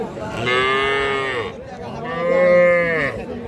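Young bull calf mooing twice in a row, each call long and drawn out with a brief pause between, close and fairly loud at a cattle market.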